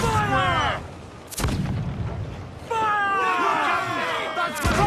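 Cannon fire from ships in an Assassin's Creed 4 naval battle video game, several sharp booms spaced across the scene, with crewmen shouting and yelling between and over the blasts.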